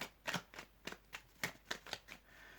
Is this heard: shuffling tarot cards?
yes